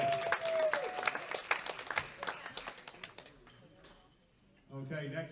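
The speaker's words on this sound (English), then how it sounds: "Give a round of applause." A crowd applauds at the World Classic Powerlifting Championships, a mid-sized round of clapping that rises full then thins and fades out, with faint clinks and a voice briefly heard near the end.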